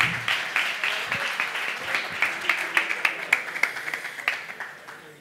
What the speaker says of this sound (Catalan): Un aplaudiment per aquest noi...